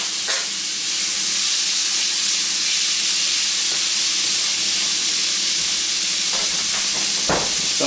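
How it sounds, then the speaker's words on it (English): Steak meat sizzles loudly in a pan with onions for a Philly cheesesteak, a dense, continuous hiss and crackle with a few brief scraping bursts near the end and no voices. "we're going to throw our meat in"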